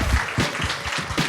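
A live podcast audience claps in a short, dense burst of applause, loud and close, with no talking over it.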